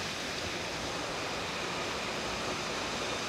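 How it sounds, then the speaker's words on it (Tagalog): A waterfall on a small river in Bailen, Cavite, gives a constant broadband rushing roar, steady and unbroken throughout, heard from a short distance with no voices. "Mula dito tanaw yung falls."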